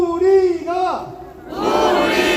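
A voice leads a slogan chant at a political rally for President Yoon Suk Yeol at Gwanghwamun, then a large crowd roars back in unison, loud and reverberant across the open square.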